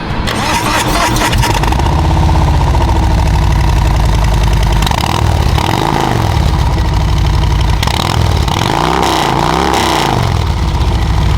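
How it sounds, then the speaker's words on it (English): A 2023 Harley-Davidson Road Glide Special with a Reinhardt aftermarket exhaust idles loudly with a deep, throaty exhaust rumble, revving up a few times in between. "Bike sounds really great, looks really great."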